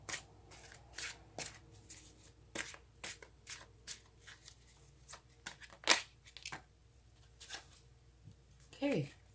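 Tarot cards shuffled by hand in soft, repeated riffling bursts with brief pauses, close and fairly quiet, with a voice speaking faintly now and then.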